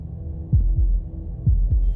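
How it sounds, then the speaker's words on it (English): A heartbeat from the video game Slay the Princess, deep low thumps arriving in paired beats, two doubled pulses over a steady low hum, close and heavy. "That was the sound of a heartbeat,"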